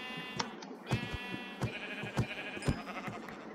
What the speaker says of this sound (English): why am I trying to kill the brown sheep?